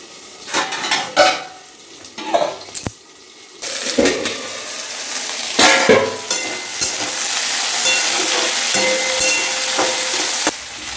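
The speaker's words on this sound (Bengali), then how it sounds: "এখানে একটু মেথি আর মৌরি আমি একটু ফোড়ন" Fenugreek and fennel seeds crackle and sizzle in hot oil, with bursts of spluttering, scraping stirs and clinks of a utensil against the pan, settling into a steady close hiss toward the end.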